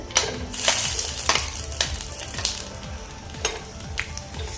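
Dry coconut roasting in hot oil in a pan, a constant crackling sizzle with repeated scraping stirs of a spatula, close and fairly loud, no speech.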